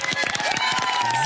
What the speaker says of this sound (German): Einen ganz, ganz großen Applaus für Daniel und Nelly